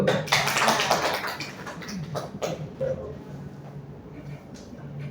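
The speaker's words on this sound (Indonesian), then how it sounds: "Beri tepuk tangan dulu." Students in a classroom clap for a classmate, a brief burst of many hands that thins into a few scattered claps within a couple of seconds, with a faint voice and room murmur after it fades.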